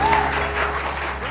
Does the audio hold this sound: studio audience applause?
yes